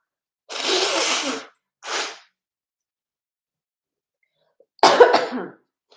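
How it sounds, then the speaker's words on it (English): Two bursts of nose blowing, a long one then a shorter one, followed after a pause by another noisy blow, close and loud. "I've got to blow my nose."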